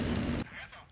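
An explosion in the IL-2 1946 flight simulator during an Arado 196 mission: one loud, close blast with a broad roar lasting under half a second, then cutting to a quieter rumble.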